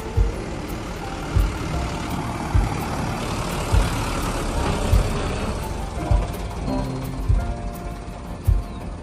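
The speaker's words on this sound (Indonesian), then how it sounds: "Wih, truk oleng." A swaying, tilting truck rolls by with a continuous loud engine rumble, punctuated by regular low thumps every second or so, with no talking.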